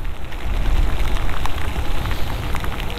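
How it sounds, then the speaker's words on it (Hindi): Steady rain falls on a town street in Sunder Nagar, a loud, even hiss of drops striking pavement and roofs throughout, with no voices. "बारिश तो कुछ रुकने का नाम ले रही है यहाँ पे।"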